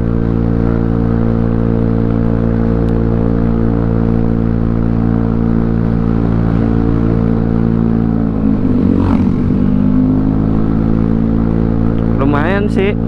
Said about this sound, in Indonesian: Mau ngetes motor Scoopy bore up 53. Ditanjakan kayak gini nangis kagak nih motor.